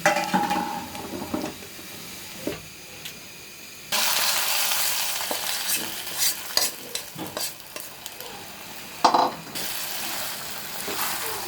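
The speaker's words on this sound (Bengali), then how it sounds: "এটাকে এখানে ভালো তেলে নাড়াচাড়া দিয়ে একসাথে মিশিয়ে" Onion paste fries in oil for a chicken kala bhuna while a spoon stirs it, making a close hiss that swells suddenly, with scattered scraping strokes and a sharp clink against the pot.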